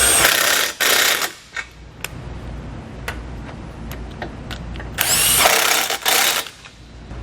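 A power tool whirs in two loud bursts, with clicks and ratcheting between them, as the nuts on the bumper beam of a 2016 BMW are tightened back down during a trailer hitch installation.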